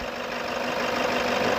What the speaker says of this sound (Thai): สตาร์ทเครื่องยนต์เดินเบา